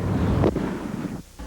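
A single M100 firecracker blast lands as a muffled, booming thud, followed by a low rumbling wash that fades out.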